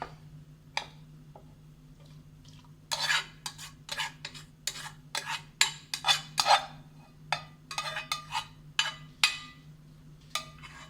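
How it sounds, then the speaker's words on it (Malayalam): A spoon stirs cooked snake gourd and prawns in a pot, giving a run of irregular scraping and clinking strokes, close and fairly quiet over a steady low hum. "നല്ലപോലെ ഒന്ന് മിക്സ് ചെയ്തെടുക്കാം."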